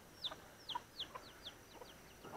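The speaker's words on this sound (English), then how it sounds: "Check out some chickens. There's a chicken." Chickens on a rural hiking trail near papaya and guava trees, with a series of short clucks and chirpy calls about every half second, fairly faint and nearby, with no talking.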